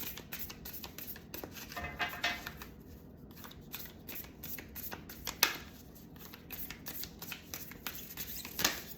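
New, stiff tarot cards being shuffled by hand, a close, quiet run of riffling and patting bursts with soft scraping between, no voices.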